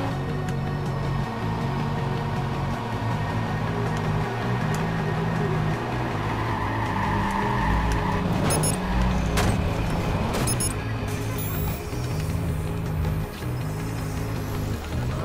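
A battered, beat-up car in the video game Watch Dogs runs with a steady engine drone that stays loud and constant throughout, with a few brief clicks and rattles on top.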